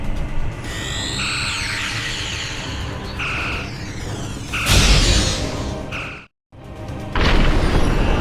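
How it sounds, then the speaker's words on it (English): A weapon fires at the transwarp network in Star Trek Online: whooshing energy tones and mechanical hums build into a deep booming blast, a brief dropout of silence, then another heavy surge. "Targeting the transwarp network. Firing the weapon, now!"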